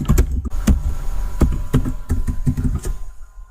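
Quick bursts of keystrokes on a computer keyboard while C code is typed into the Atom editor, an irregular run of close, sharp clicks and taps with brief pauses between them.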